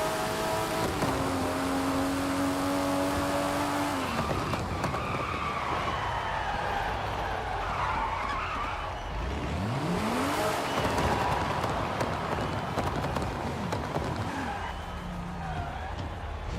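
A car in Forza Horizon 5 driving hard with engine revving, tires skidding and squealing, and rising gear-shift tones, loud and continuous over roughly seventeen seconds of game audio.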